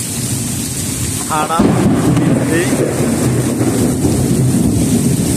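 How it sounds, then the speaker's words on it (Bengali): Heavy rain roars steadily at a market in Mecca, Saudi Arabia, with thunder rumbling and booming through the downpour, close and loud, while a voice speaks briefly over the storm. "বৃষ্টি আর কখনো দেখা যায় নাই।"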